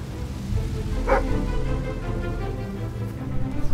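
A dog in the video game Fable 3 gives a single short bark or yip, fairly close, over a constant low ambient game background.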